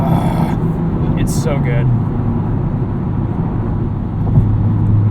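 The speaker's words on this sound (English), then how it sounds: "But watch how this thing just rockets out of corners, full throttle, front-wheel drive." A 2019 Honda Civic Type R, front-wheel drive, pulls hard out of corners at full throttle with a steady, loud engine and road drone from inside the cabin, while a person talks briefly over it.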